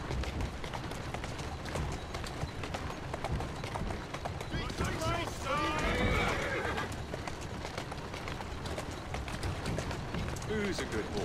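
A horse in Assassin's Creed Syndicate gives a whinny midway while hooves clip-clop along a road, with someone talking over the game sounds.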